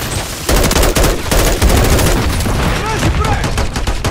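Dense automatic gunfire fills a Modern Warfare III firefight, loud close bursts of rapid shots layered over each other almost without pause, with a voice faintly underneath.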